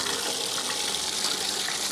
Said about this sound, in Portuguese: E aqui vamos à água corrente